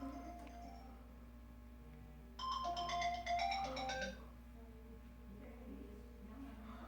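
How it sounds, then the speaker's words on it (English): A Droid Turbo 2 smartphone, under repair after water damage, rings with an incoming call: a short, clear burst of melodic ringtone tones in the middle, over a steady low hum, with quiet background before and after. "We got the phone ringing."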